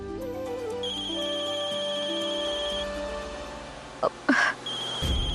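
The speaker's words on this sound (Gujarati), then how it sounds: "પ્રતિકભાઈનો ફોન છે." A mobile phone rings for an incoming call, a repeating electronic tune playing steadily at moderate level, broken by a few short bumps near the end, with no speech.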